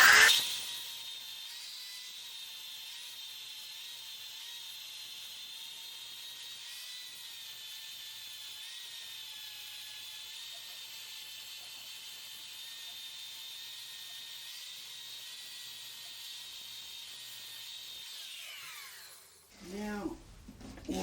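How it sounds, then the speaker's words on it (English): A power sander with a 60 grit disc works a black walnut sign, giving a steady high whine that holds at moderate level for most of the stretch, then winds down near the end, with a brief rumble after. "So I've got my 60 grit disc on here."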